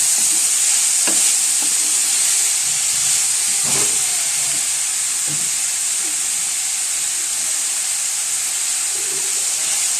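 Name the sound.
mixed vegetables frying in a pan for aloo tikki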